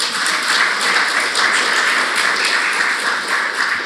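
A church congregation applauds its worship team in dense, steady clapping that fills the room at full loudness and holds for a few seconds without pause.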